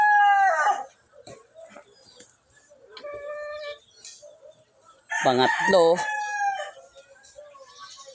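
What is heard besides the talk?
rooster crowing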